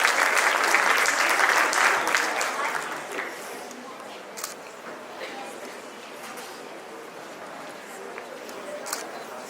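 An audience at a school excellence awards ceremony applauds an award-winning school, loud dense clapping for about three seconds that gradually thins into scattered claps and a low crowd murmur.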